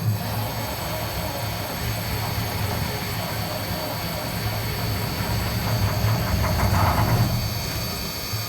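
Detroit 8V71 diesel engine in a 1973 snowplow cranking on a cold start, a steady loud mechanical drone with a rhythmic pulsing toward the end, close and continuous with no talk.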